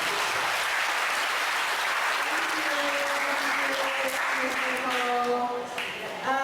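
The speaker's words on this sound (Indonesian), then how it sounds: "tepuk tangan buat Ci Olivia" Steady, loud audience applause in a hall at a motivational seminar, sustained and even throughout, with faint tonal pings and a voice briefly rising near the end.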